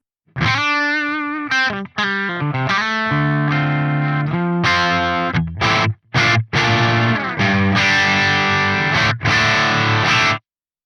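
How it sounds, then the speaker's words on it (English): An electric guitar through a Soldano SLO-100 amp, played without a compressor, a dry distorted tone picking out a choppy riff of quick notes and chords with brief pauses between phrases. "Here's how my guitar sounds without the compressor engaged."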